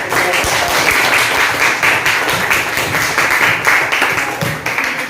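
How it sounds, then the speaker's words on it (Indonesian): Loud, steady applause from a classroom of students after a group presentation, many hands clapping densely and continuously at close range throughout. "kita berikan aplaus dulu"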